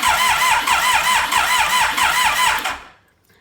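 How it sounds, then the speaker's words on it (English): A motorcycle starter motor labours as it cranks the engine on a fully charged battery with OEM 10mm cables, giving a loud, steady, rhythmic whirring churn for nearly three seconds before it stops abruptly. "let's see what the cranking speed is"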